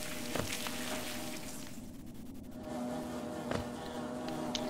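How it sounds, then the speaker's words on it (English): Steady insect buzzing of bees in the video game Hollow Knight, a continuous droning hum heard alone with a few soft ticks over it. "I hear buzzing."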